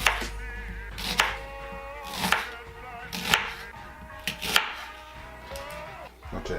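A knife chops red onions on a cutting board in a rough, steady rhythm, with about six crisp, close knocks spaced roughly a second apart over faint background music.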